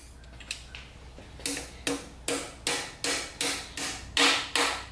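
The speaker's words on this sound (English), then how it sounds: "I'm using this kind of hammer on an engine." A carpenter's hammer raps on a GM LS 5.3 V8 engine during assembly with ported heads: about eight sharp metallic taps in a steady, unhurried rhythm, close and loud, with a couple of lighter knocks before them.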